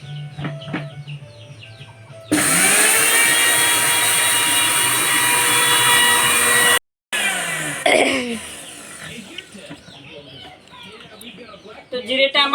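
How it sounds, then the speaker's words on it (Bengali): An electric mixer grinder powders cumin seeds with a loud, high, whining roar that starts abruptly, runs for several seconds, cuts out briefly, then gives way to rattling and handling, with talking before and after. "জিরেগুলো আগে ভালো করে পাউডার করে মিক্সিতে পিষে নিই"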